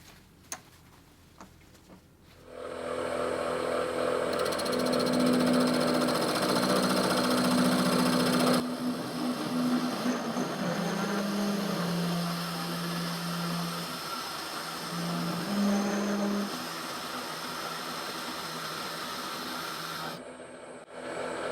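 A power drill runs continuously for about eighteen seconds while boring into a hardened resin block with paintballs cast inside, giving a steady whining hum with shifting pitch, a hissing grind and a few brief pauses.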